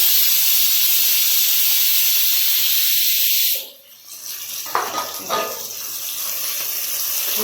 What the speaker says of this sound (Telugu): 2 ఆనియన్స్ తరిగి పెట్టుకున్నాం కూడా అవి వేసి, ఈ ఆనియన్స్ కొంచెం కలర్ వచ్చేదాకా వేసుకున్నాం